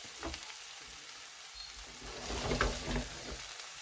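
A Spanish tortilla frying over medium heat in a pan, a steady soft sizzle with occasional crackles and pops, louder near the end, with no voices.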